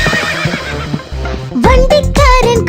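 A horse whinnies in the second half over children's rhyme music with singing, as part of a horse-drawn cart scene.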